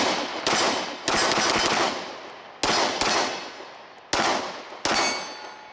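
Gunshots from a Springfield Armory Ronin 9mm 1911 pistol ring out in quick strings of sharp, loud reports with ringing tails, several bursts separated by short pauses.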